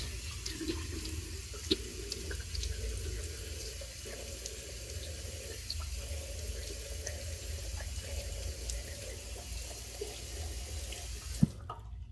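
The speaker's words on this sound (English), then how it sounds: "let me wet my face and we'll get to it." A bathroom tap runs steadily into a sink as water is used to wet the face before a straight-razor shave. It is a continuous, moderately quiet gush with no talking.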